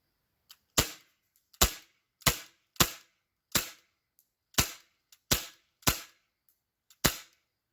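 Lancer Tactical Cobra 1911 airsoft pistol firing nine sharp, snappy shots at uneven intervals, each a crisp crack with a short tail, close and loud with no talking.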